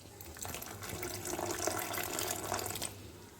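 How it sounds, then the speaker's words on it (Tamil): Cow's milk is poured into jackfruit seed payasam in a continuous, fairly loud liquid stream that runs steadily for about three seconds before tapering off. "நான் வந்து பசும்பால் சேர்த்து போகிறேன்"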